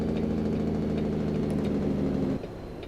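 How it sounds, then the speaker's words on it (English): A heavy truck's engine brake in American Truck Simulator gives a loud, steady low drone and engine rumble that drops abruptly in level near the end, with no talking. "use that engine brake."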